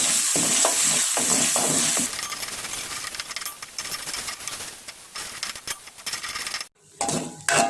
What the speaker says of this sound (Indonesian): di sini kita tumis tentunya bahan bumbunya matang ya. Baik, kita aduk-aduk.